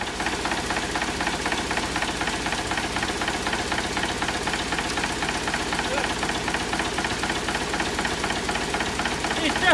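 An air brake compressor on a 1963 Volvo BM tractor pumps air with a rapid, steady knocking rhythm, loud and continuous throughout at close range.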